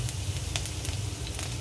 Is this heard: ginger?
yes